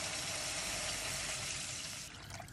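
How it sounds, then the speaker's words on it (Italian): Water poured into a pan of scampi sauce, a steady close rushing wash that holds for about two seconds and then eases off, with no talk over it. "Aggiungiamo l'acqua"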